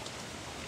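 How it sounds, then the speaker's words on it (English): Heavy rain in the video game Don't Starve, a dense, steady hiss of downpour with no gaps, heard alone. "it's raining pretty goddamn hard"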